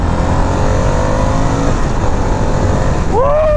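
Harley-Davidson Sportster S motorcycle pulling hard in third gear, a loud steady engine roar with rising pitch as it accelerates, close and continuous, with brief wind rush.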